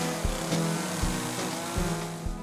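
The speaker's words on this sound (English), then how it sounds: "There's even an annual chainsaw carving competition with carvers from around the world." A chainsaw runs at an outdoor carving competition during the Albuquerque International Balloon Fiesta, a steady nearby engine drone with a few sharp revving bursts in a loose rhythm, and no talking.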